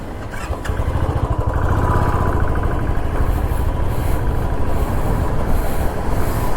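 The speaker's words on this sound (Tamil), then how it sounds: "வண்டி என்னன்னு தெரில, திடீர்னு ஸ்டார்ட் ஆகுது, திடீர்னு ஸ்டார்ட் ஆக மாட்டேங்குது." A vehicle engine starts at high altitude near Manali, with a few sputters before settling into a loud, close, steady rhythmic chugging idle.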